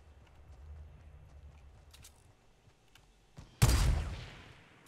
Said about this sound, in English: someone's shooting at you